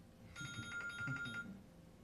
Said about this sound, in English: it's a nice ringtone.